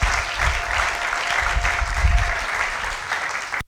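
A church congregation claps together in a dense, loud and sustained burst of applause that fills the room before fading out at the very end.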